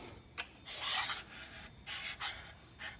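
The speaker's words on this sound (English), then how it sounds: "So I'm loosening this bottom nut a little bit and then tightening the top one." A wrench loosens and tightens nuts on the knife of an Atlas AT-400/300 planer, giving several short scraping, rasping strokes that come close and fairly faint in quick succession.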